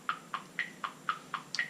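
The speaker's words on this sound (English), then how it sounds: "I'm going to make it so that my metronome is counting 16th notes" A metronome ticks sixteenth notes at 60 BPM: seven crisp, evenly spaced clicks about a quarter second apart, close and moderately quiet, with no other sound.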